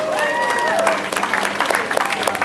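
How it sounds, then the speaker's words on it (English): Crowd at a Vancouver Aquarium porpoise show breaks into a lively round of applause, many hands clapping loud and close, with a whistle-like tone and cheering voices rising above it early on. "Let's give a round of applause"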